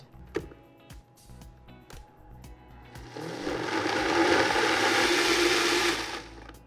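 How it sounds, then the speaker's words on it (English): Zwilling Enfinigy personal blender whirring through a smoothie with fresh green cardamom, a loud steady motor roar rising after a few clicks and running several seconds before cutting off. "Now that I have my lid on, I'm going to give it all a quick blend."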